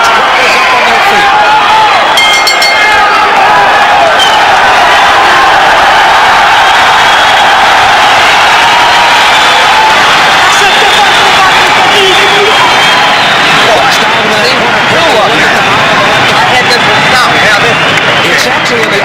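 French boxing crowd on its feet near the end of a round, a loud continuous roar of cheering and hubbub under a commentator's voice.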